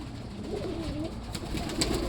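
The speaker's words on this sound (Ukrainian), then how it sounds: "Ось такий голубок." An adult pigeon coos nearby in a soft, low, warbling rolling call that repeats once, over a steady background hiss.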